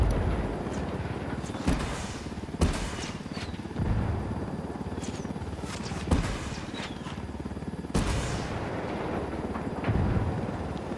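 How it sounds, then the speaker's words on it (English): Helicopter gunfire in the video game Ghost Recon Wildlands Narco Road comes as a few sharp, spaced bursts over a continuous rotor drone with scattered whooshes. "It took them this long to understand that they were taking fire from a helicopter?"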